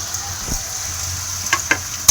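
Malabar spinach leaves frying with spice paste in a pan, a steady soft sizzle with a few brief stirring clinks and scrapes close by, no talk.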